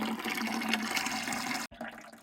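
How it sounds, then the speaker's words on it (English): Water pours steadily from the drain spout of a water heater tank into a bucket, a continuous close splashing rush that cuts out sharply for an instant, then resumes more faintly. "while that finishes draining"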